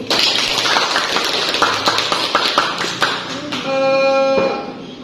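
A biology class breaks into brief, scattered applause, a flurry of claps for a few seconds under a voice, followed by a steady tonal hum.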